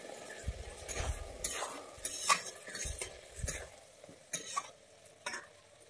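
Okra cooking in a pan as three slit green chilies go in, with a soft sizzle under repeated stirring and utensil scrapes against the pan, close and moderately loud.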